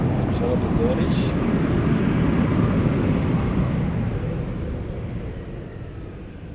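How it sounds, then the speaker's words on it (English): An Airbus A319 moving on the ground at Lisbon Airport, heard as a broad, steady jet-engine roar. It stays strong and then slowly fades over the last seconds, with a voice speaking over it. "So we've got another A319 movement."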